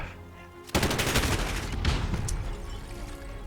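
Gunfire in a Call of Duty: Modern Warfare 2 vs 2 match bursts in suddenly after a quiet moment, a loud rapid rattle of shots continuing near and sustained, with no talk.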